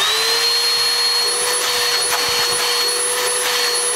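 A Bissell Powerforce vacuum cleaner runs with a loud, steady motor whine and rushing airflow, constant from start to finish, close up with no talking.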